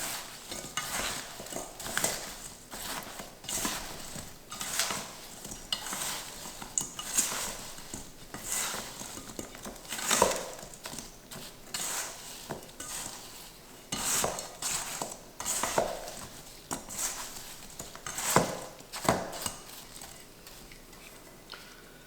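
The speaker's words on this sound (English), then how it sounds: "I'm going to mix it with the apples and just toss them around in there." Apple pieces tossed with a sugar mixture in a bowl, giving a steady run of close clicks, clatters and scrapes against the bowl with no talking.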